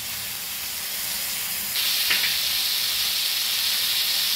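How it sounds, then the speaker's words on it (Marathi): Stuffed Bombay duck (bombil) rolls filled with prawns frying in a pan, a broad steady sizzle that swells louder and brighter about halfway through as a roll is flipped, with a short clatter at the turn. "आता हे पलटी मारून घेते असं का दुसऱ्या साईडने फ्राय व्हायला."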